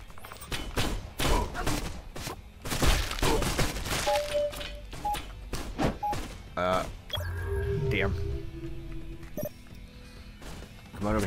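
Rapid bursts of gunfire and impacts ring out in the Reservoir Dogs: Bloody Days video game, sharp repeated cracks and thuds close up, mixed with game effects and a player talking over them.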